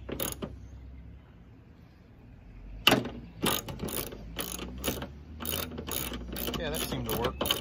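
Ratchet wrench snugging a ditch light bracket bolt on a Honda Ridgeline: a single click, a pause, then a steady run of close, crisp ratcheting strokes with some creaking.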